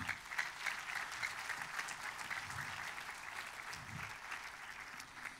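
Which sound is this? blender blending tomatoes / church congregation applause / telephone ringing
church congregation applause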